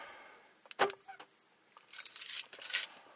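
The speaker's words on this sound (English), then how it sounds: "I'm gonna lock with the remote" A 2016 Fiat 500e electric car locking via its remote key fob, with a few short clicks and clunks followed by bursts of bright rattling, fairly close and moderately loud with no talk.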